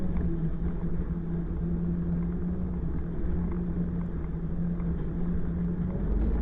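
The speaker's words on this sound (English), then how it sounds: "just listening to that engine roar" A Peterbilt truck's engine gives a steady, loud low rumble with a droning hum held evenly throughout, heard alone without talk.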